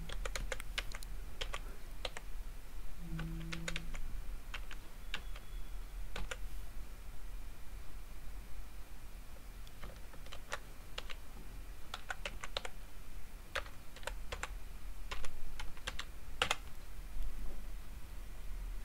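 Typing an email address on a computer keyboard: scattered light key clicks come in quick bursts and short pauses, close and fairly quiet over a low steady background hum.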